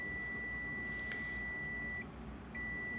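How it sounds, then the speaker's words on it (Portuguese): A digital multimeter on a continuity test emits a steady high-pitched beep that holds for about two seconds, cuts out briefly, then resumes, with a faint hum underneath. "o meu multímetro também está bipando"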